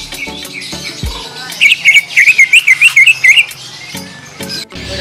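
A green leafbird (cucak ijo) sings loud and close, a run of about ten rapid, repeated whistled chirps in a quick rhythm, with no talk over it.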